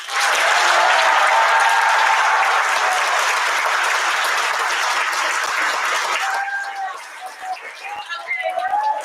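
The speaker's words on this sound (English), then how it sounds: "Please give a round of applause to our band directors." A school spring band concert audience applauds the band directors, loud sustained clapping that fills the hall, then thins out toward the end as scattered claps and a few voices remain.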